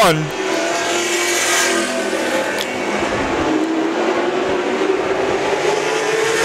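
Race cars in a Charger class race roar around a track mid-race, engines revving loudly and continuously with changing pitch, under an announcer's ongoing commentary.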